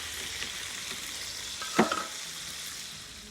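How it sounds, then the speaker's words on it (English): Tomatoes cooking down in a pan for chicken paella give a soft, steady sizzle, with one brief scrape of a spoon stirring partway through, quiet and close. "I'm going to stir this a little bit and let it cook."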